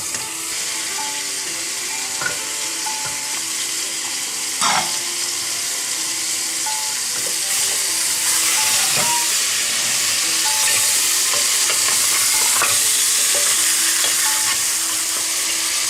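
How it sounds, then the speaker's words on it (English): Lamb frying with condiments in a pan for rogan josh, a loud, steady sizzle and hiss that goes on throughout, with occasional scrapes and clinks as it is stirred. "we'll fry it until it's golden brown"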